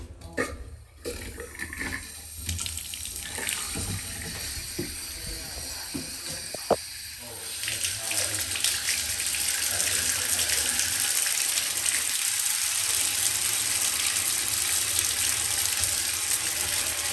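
Water running from a sink tap in a rental house, starting after some handling clatter and then gushing steadily and loudly to the end, with no talk over it.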